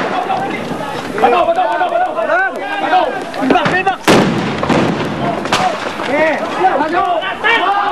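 Repeated sharp blasts ring out in quick succession as police break through a barricade amid thrown rocks, with constant crowd noise and shouting, one especially loud explosion standing out.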